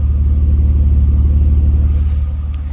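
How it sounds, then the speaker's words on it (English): A BMW E36 328i engine idles with a deep, pulsing exhaust rumble, steady and close, settling slightly toward the end. "Now, the note out of the exhaust is actually quite nice."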